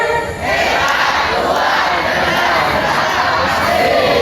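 Students at an Islamic boarding school event shout a loud group chant together, a dense sustained crowd roar that holds steady for the whole stretch.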